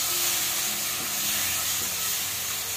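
Hair-oil ingredients dry roasting and being stirred in a wok produce a continuous soft sizzle and hiss over a faint low hum, close by and unbroken.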